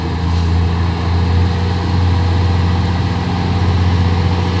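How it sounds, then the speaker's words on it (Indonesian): A loaded Hino 500 trailer truck with a heavy cargo box runs with a steady, deep engine drone throughout, loud and close, with no voices. "Satu unit truk trailer Hino 500 ya, berlos bak ini ya teman-teman, berat ini."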